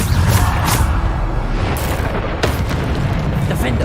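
In Hogwarts Legacy, a Bombarda blasting spell explodes with a deep, loud boom that rumbles on, followed by sharper bursts from the combat around it, near and dense.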